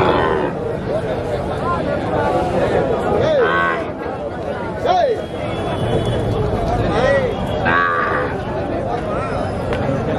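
Cattle at a busy livestock market give several loud, drawn-out moos close by, over constant crowd chatter and people talking throughout.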